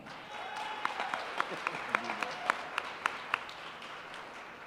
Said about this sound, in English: Please give a round of applause to our second finalist